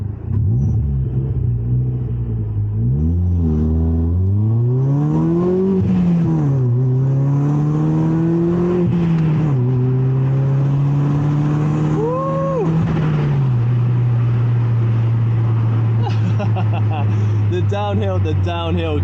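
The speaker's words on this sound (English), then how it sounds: "You can hear the engine struggling." A 1.4-litre Ford Fiesta engine drones low and strained, revving slowly upward as the car pulls away, with people talking over the steady rumble.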